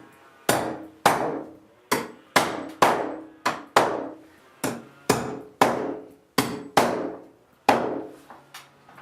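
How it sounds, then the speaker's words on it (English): Nails driven by hammer to fasten metal wire protector plates to wooden wall studs where wiring passes through the top plate, about fourteen sharp ringing blows in a steady irregular rhythm, close and loud with no talking. "We're going to put this over here where the wires come down through the top plate and nail them on."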